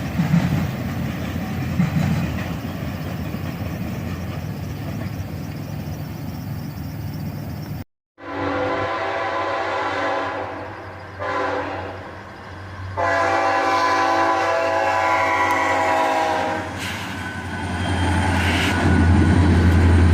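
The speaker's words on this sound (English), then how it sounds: "The single Dash 8 gets this train out of the siding in no time." A train led by a single Dash 8 locomotive pulls out of a siding, its engine rumbling steadily with a loud horn blast in the middle and continuing rolling noise of railcars.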